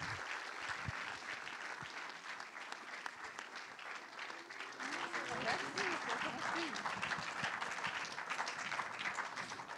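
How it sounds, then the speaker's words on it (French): Sustained applause from an audience at a festival closing ceremony fills the whole stretch, dense and steady, with a few voices and cheers mixed in. "On applaudit tous ces jeunes gens."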